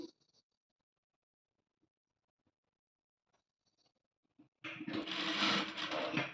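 An electric sewing machine stitches the broad neckline of a readymade blouse. Near-silence with faint handling clicks comes first, then the machine bursts into a loud, close, steady whirring run for the final two seconds.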